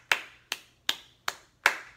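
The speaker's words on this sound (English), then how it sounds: "Show me how you clap your hands." Five single, sharp hand claps at a storytime, evenly spaced about every 0.4 seconds, close and crisp with brief decays and near silence between them.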